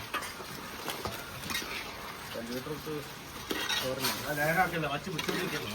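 Curry being stirred in a cooking pot, a spoon scraping and clinking against the metal in irregular strokes, close and moderately loud, with voices talking over part of it.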